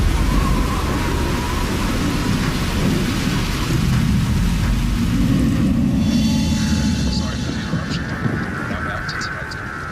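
Heavy rainstorm with a long deep roll of thunder rumbling beneath steady loud rain, the downpour easing slightly toward the end.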